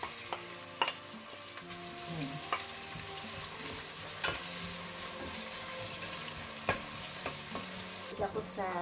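Chopped onion fries in a pan, cooked for a rolled spinach borek, with a steady close sizzle throughout and several sharp utensil clinks and scrapes as it is stirred.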